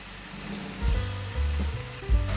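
Ginger chicken stir-frying in a pan, a steady sizzle broken by several low thumps and scrapes as the pieces are stirred, close and alone.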